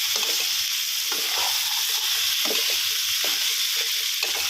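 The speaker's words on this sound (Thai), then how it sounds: "เดี๋ยวเราจะผัดแล้วก็ขยี้ไปนะครับ" Rice with Chinese sausage stir-fried in a hot pan, giving a steady loud sizzle with repeated scraping strokes of a spatula breaking up clumps, no voices.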